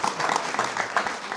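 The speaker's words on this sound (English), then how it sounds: "Round of applause." Audience applause at a talk about the Senate, brief moderate clapping from a small crowd, fairly quiet and even, lasting just over a second.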